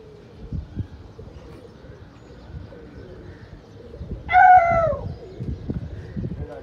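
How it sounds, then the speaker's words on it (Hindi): A pigeon gives one short, clear coo over quiet outdoor background on a still day, with faint rustling and bumps around it. "पूरा कबूतर खटीरी बन के बोल रहा है,"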